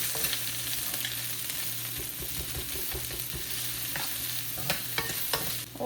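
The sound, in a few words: stirring garlic and onion frying in pan for Hakka noodles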